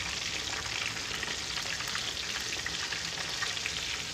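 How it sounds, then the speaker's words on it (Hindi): Chapli kebabs frying in oil, a dense, even, close hiss of bubbling fat that runs unbroken for a few seconds with faint crackles and no voices. "आपने देखा कि हमारे ये चपली कबाब बहुत बढ़िया जो है फ्राई हो गए हैं"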